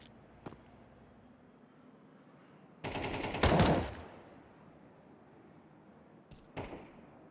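Gunfire from Counter-Strike on the Nuke map during an esports match comes as a single loud, short burst mid-clip. A few faint clicks and thuds sit before and after it against a quiet background.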